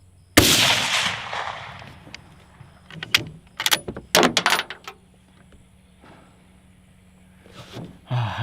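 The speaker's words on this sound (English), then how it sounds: "it's just really satisfying to shoot this Mosin" Suppressed Mosin rifle fire in the video game Escape from Tarkov, a sharp muffled shot followed by a cluster of quick mechanical clacks from bolt cycling and reloading, with a few more clicks at the end.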